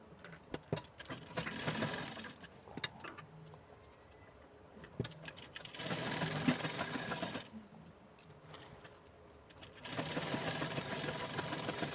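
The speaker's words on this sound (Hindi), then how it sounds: "दूसरी साइड भी हम इसी तरीके से सिलाई लगा करके अटैच कर लेंगे।" Sewing machine stitching a blouse sleeve onto the garment, running in several bursts of steady mechanical whirring separated by short pauses, close and moderately loud with no talk.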